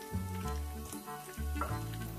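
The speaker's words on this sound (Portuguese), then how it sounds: "aqui nessa panela, por fim, aqui a gente tem alho refogado" Garlic sizzles and fries in a pan with steady crackling, and a few lower stirring or scraping sounds come up close. There is no talk.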